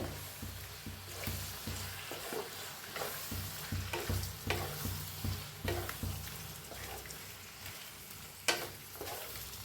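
Paneer roll filling being stirred and fried in hot oil, a continuous sizzle with repeated scraping stirs in an irregular rhythm, close by and without speech.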